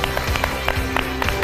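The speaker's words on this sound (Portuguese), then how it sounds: "Um grande aplauso para a Bárbara!" Studio audience on a Portuguese television talk show clapping for a guest named Bárbara, a brief burst of dense applause with percussive claps, over band music playing.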